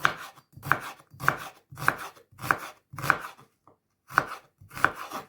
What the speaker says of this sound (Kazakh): Осылай тураймыз.